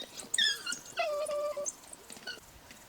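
African wild dogs call on safari with high, bird-like twittering whines and wavering wails, several overlapping calls in bursts at moderate distance with no talk.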